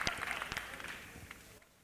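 Audience applause in a school assembly, a dense patter of many hands clapping that fades out over about two seconds, with a voice mixed in.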